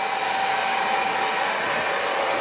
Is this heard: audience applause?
no